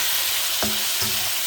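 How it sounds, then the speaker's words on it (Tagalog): Tomatoes sautéing in a pan for a salmon and potato dish, a steady broadband sizzle with two short scraping stirs partway through, close and alone with no talk. "Ito, igisa natin yung kamatis."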